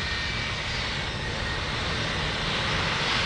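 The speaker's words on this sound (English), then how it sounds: "this concludes today's demonstration of the C-17 Globemaster III" Engines of a C-17 Globemaster III military transport at an Air National Guard demonstration roar steadily and loudly, a broad continuous jet rumble that swells slightly toward the end, with no talk.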